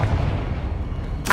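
A Confringo fire spell in Hogwarts Legacy lands as a loud, rumbling blast, a dense low boom sustained through the moment with a sharper crack flaring near the end.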